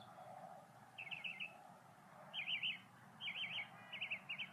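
Small birds chirp outdoors in quick warbling bursts, several short trilled phrases repeating over a low steady background hum, fairly faint and with no voices.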